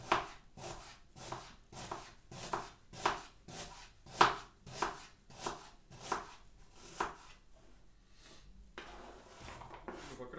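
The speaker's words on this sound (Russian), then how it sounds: "Порежем лук полукольцами. Просто полукольцами потоньше." A kitchen knife chops onion into thin half-rings on a cutting board for plov, a steady series of crisp, close thuds that slow and fade into quieter rustling.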